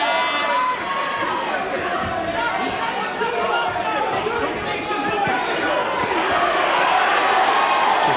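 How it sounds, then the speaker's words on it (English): Boxing crowd at a lightweight bout chanting a boxer's name, a dense, continuous roar of many voices filling the arena, with a commentator talking over it. "The crowd chants Stephen, Stephen."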